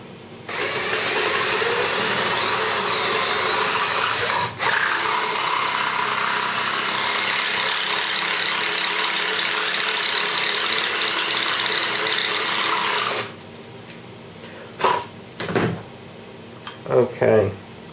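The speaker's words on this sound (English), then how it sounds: "it's a size 10 metal drill" A size 10 metal drill bit bores through a Sony HDR AS15 camera housing, a loud steady whir that runs continuously for about twelve seconds with one brief dip, then stops and is followed by scattered clicks and handling noises.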